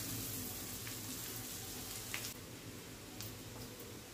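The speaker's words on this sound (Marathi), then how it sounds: "1-2 मिनिटं कांदा आपण परतवून घेऊ चांगला" Chopped onion sautéing in butter in a pan, a steady close sizzle and crackle running throughout with a few soft stirring scrapes, no voices.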